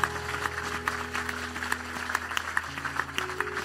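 A church congregation claps together in a steady, dense rhythm during a lively worship service, with music tones running underneath.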